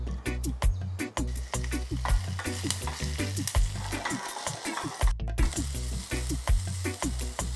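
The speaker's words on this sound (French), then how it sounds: "je vais faire revenir l'échalote avec le piment végétarien dans un peu d'huile." Shallot and vegetarian chili fry in a little oil in a saucepan, a steady close sizzle broken by repeated scraping stirs and clinks of the utensil.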